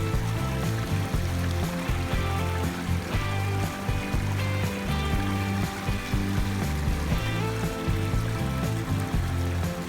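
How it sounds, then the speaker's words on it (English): A small river flows in a continuous busy rush of water, steady and fairly close, with no voices over it. "There's a beautiful little river."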